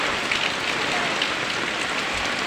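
Habagat monsoon rain falls steadily on surfaces near a flood-threatened house, a dense, even hiss without pauses.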